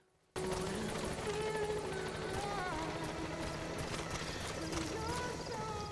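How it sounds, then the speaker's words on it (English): A helicopter in Metal Gear Solid V thrums steadily after landing, its rotor chop starting abruptly and continuing as a loud rhythmic beat, with a voice talking over it. "So we've landed. The awesome thing about the helicopters landing in"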